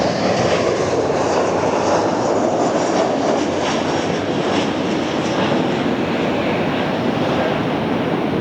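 A United Airlines jet touches down at LAX, a loud unbroken roar of engines and rushing air that holds steady throughout, close and dense.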